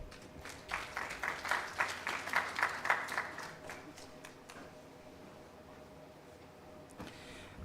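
Audience applause for a speaker at a career talk, a burst of clapping that swells over the first few seconds and then fades, with faint voices underneath.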